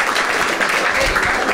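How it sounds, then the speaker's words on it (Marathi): A brief burst of audience applause at a stand-up comedy show, a dense wash of many hands clapping at once, loud and close. "ठीक आहे एकदा टाळ्या वाजवायच्यासाठी"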